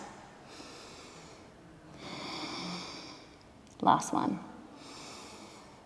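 Slow, audible breaths are drawn and released through the nose in a yoga pose, with long airy inhales and exhales spaced a few seconds apart. A short spoken cue cuts in partway through.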